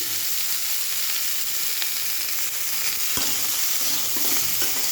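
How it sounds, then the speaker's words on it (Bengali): Snake gourd and green chili sizzle in a frying pan, a constant bright crackling hiss close up, broken by a few soft knocks as they are stirred, with no one speaking. "এবারে চিচিঙ্গাটাও আমি দিয়ে দেবো, একটু সামান্য নাড়াচাড়ি করে।"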